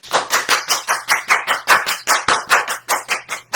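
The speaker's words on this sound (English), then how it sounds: "She clapped all night, she clapped all day, she clapped to frighten the cat away" Hands clapping a steady, even beat along to a children's rhyme at a storytime session, sharp claps repeating about four times a second, close and loud.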